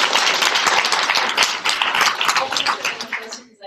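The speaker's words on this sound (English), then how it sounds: "I want to give a round of applause to" Audience applause at a UN Women U.S. National Committee event, a dense, steady wash of many hands clapping for a few seconds before tapering off at the end.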